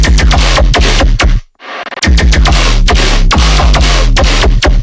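Loud, heavily processed vocoded vocal stabs pound in a rapid rhythm over a dense synthetic backdrop in a bass music drop, with one short break filled by a convolution reverb wash.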